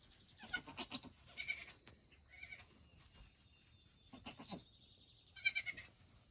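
Goats in a barn where does have just given birth, with several short bleats in scattered bursts, fairly faint against a steady high insect-like whine.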